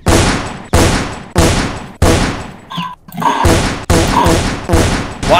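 Heavy gunshots ring out in a Roblox game, about nine loud, booming shots in an uneven rhythm, each with a long decaying tail and a brief gap midway.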